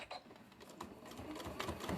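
A sewing machine stitches through a book cover as the fabric feeds under the presser foot, giving a faint, rapid, irregular mechanical chatter up close, with no talking.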